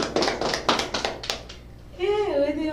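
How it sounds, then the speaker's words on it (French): Scattered hand claps from a small group of children at a kids' corner gathering, a few uneven bursts close by that fade out before a voice begins speaking. "On applaudit Juliment"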